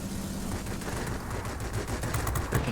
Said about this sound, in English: Let's put these cannons to use, baby.